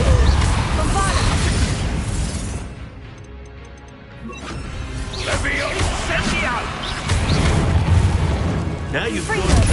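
A Bombarda spell explodes in the Hogwarts Legacy game during a Gryffindor trial, a loud booming blast among crashing combat effects and dense game music, with a voice shouting spells over the chaos.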